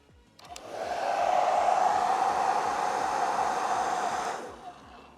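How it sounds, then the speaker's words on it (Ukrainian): A hair dryer on its highest power setting runs from a Bluetti AC70P portable power station, starting with a click, blowing a loud steady rushing whoosh for about four seconds, then cutting off. "Ми ввімкнули останній режим потужності фена, і станція перейшла у захист."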